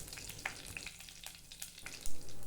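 Mustard seeds spluttering and popping in hot oil while garlic thokku is made, a close, steady frying sizzle with scattered sharp crackles throughout.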